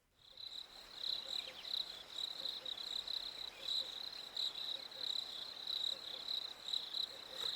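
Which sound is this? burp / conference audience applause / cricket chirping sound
cricket chirping sound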